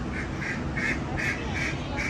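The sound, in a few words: ducks quacking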